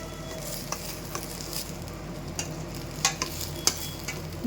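Sliced okra for a Tamil-style poriyal cooks in oil in an open pan, giving a steady close sizzle with sharp stirring scrapes and clicks scattered throughout; no one talks.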